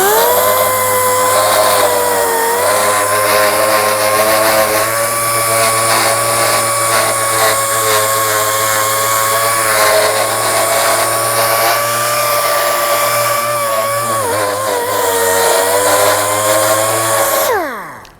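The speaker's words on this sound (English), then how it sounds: "Now it's a dual action grinder," A dual action grinder polishing stainless steel runs loud and steady for about seventeen seconds, its high whine holding constant with a slight pitch wobble before winding down at the end.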